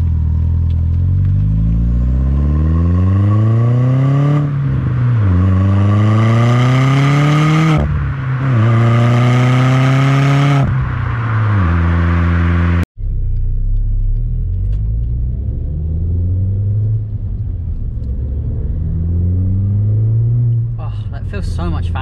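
A turbocharged VW Polo GTI 9N3 accelerates hard through several gears, each pull rising in pitch before a shift drops it back, with a steady exhaust drone heard from inside the car.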